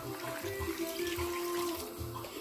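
Water pours steadily into a pot of goat meat pepper soup, a continuous close splashing and gurgling stream with no talking.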